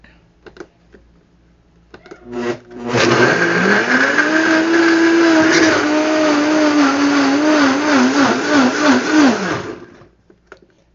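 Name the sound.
blender blitzing vegan saag ingredients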